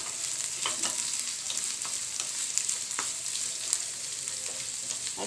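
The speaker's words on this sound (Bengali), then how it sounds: "এখন পেঁয়াজটাকে একটু ভেজে নেব।" Onions frying in a pan for Bangladeshi chicken patties, a steady close sizzle with light crackles and occasional stirring scrapes throughout, no talking.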